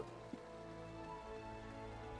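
Steady, soft rain in Final Fantasy XIV, a continuous gentle patter on surfaces with a faint low hum beneath and one brief tap near the start, no speech.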